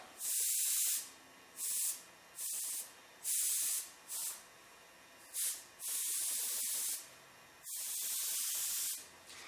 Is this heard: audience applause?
no